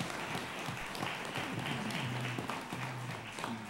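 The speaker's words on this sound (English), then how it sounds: "Let's give a big round of applause to all of our candidates." Audience at a Kissimmee city commission candidate debate applauding the candidates, a steady wash of scattered clapping heard at moderate distance with a faint voice underneath.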